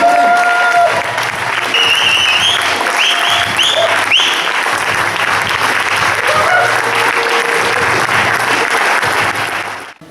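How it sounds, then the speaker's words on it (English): Sustained applause from an audience at an awards night honouring a group of brothers, a dense, steady clapping that carries on for about ten seconds before cutting off abruptly. "Clap for them, people."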